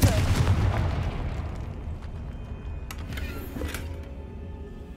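A heavy booming blast at the start fades into a lingering rumble with faint crackles afterward, from the Confringo fire-blast spell exploding in Hogwarts Legacy during Percival Rackham's trial.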